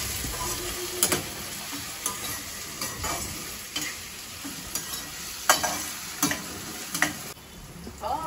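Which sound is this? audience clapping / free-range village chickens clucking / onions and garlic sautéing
onions and garlic sautéing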